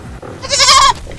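A goat in the shooter game Plants vs Zombies: Battle for Neighborville gives a single loud, close bleat lasting about half a second, with no talk.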